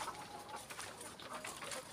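Laying hens cluck softly and steadily in a coop, a faint, continuous murmur of poultry sounds with no talk.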